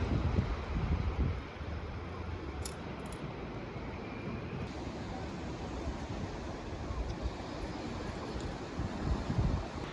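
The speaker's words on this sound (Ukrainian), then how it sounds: "Сьогодні в нас море хвилюється," Rough sea with a continuous roar of waves and heavy wind buffeting the microphone, steady throughout.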